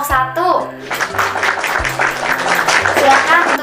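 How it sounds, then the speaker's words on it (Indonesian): Children in a classroom clapping for a group of classmates after the teacher's prompt, a short burst of scattered applause with voices talking over and around it. "Beri tepuk tangan dulu untuk kelompok 1"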